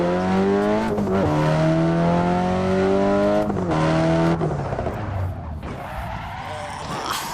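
A simulated car in Assetto Corsa weaves through traffic on the Shutoko expressway. Its engine revs loudly and climbs in pitch through gear changes, with sharp tire squeals along the way, and the roar fades toward the end.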